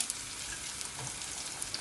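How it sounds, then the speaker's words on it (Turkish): Mushrooms frying in a pan, a steady, close crackling sizzle with scattered pops that runs the whole time, with no talking over it. "Mantarları bir iki kere bu şekilde çevirerek kızartıyorum."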